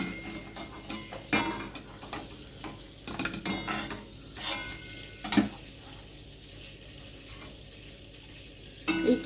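Prawns frying lightly in a pan are lifted out, bringing a low background sizzle broken by sharp clinks and scrapes of a utensil against the pan, spaced irregularly and close by.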